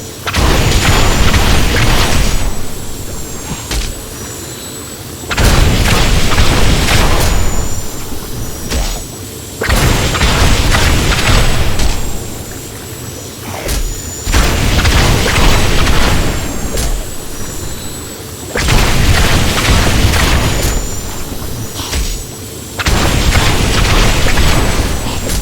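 Repeated heavy booming explosions from a spell effect in a video game, each burst lasting a couple of seconds and recurring roughly every four to five seconds, loud, dense and close with no talk over them.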